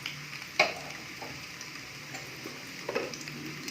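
Eggs frying in a pan over a medium flame for an Afghani egg masala give a steady close sizzle, with a sharp clink near the start and another late on.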